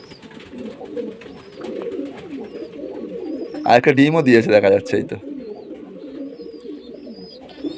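Pigeons in a home loft coo in one close, throaty burst of a second or so in the evening, while someone talks quietly before and after.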